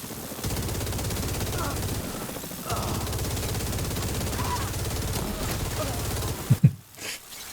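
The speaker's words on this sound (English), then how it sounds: "here we'll use the minigun for a little bit because we have some rounds for it" Rapid, continuous minigun fire in a video game, a dense buzzing stream of rounds lasting several seconds with a brief pause, then a few sharper bursts and thumps at the end.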